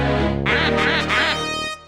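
A cartoon-style duck quacks in a quick run of several nasal quacks, loud and close, with no talk over it.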